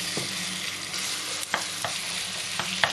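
Potato pieces frying in cooking oil in a small pan, with a steady close sizzle broken by a few sharp clinks of stirring.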